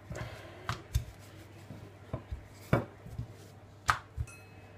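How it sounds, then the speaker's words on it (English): A rolling pin works beef-and-onion pasty dough thinly across a floured surface, giving a series of irregular, sharp wooden knocks and thumps spaced apart over a quiet background. "on a floured surface, just roll them out quite thinly"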